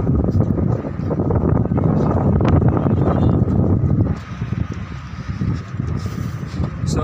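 Strong wind at a sea beach buffeting the microphone, a loud continuous low roar that gusts hard for several seconds, then eases to a softer, patchier rush.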